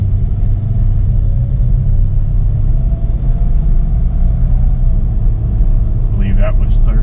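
A Nissan Xterra under way as its transmission shifts through the gears: a loud, steady engine and road rumble fills the cabin, with a brief change in tone late on and a voice talking over it.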